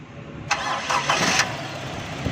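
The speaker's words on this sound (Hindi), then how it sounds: "ज़रा गाड़ी को सलफ लगाओ, सलफ कमज़ोर लगाती है किसी वक्त।" A car's weak self-starter cranks the engine in one strained burst of just under a second, loud and close, with a low steady background before and after.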